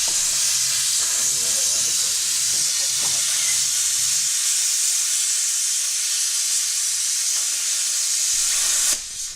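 Plasma cutter slicing through a car subframe gives a loud, continuous hiss, steady and close for about nine seconds, with low clunks and rumbles underneath early on, before cutting off at the end.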